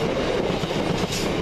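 A coal train passing close by at Swinton, a loud, steady rumble of rolling wagons with faint rhythmic wheel clatter throughout.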